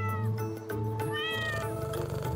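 A cat meows loudly and close, with drawn-out, rising and falling cries that run almost without pause.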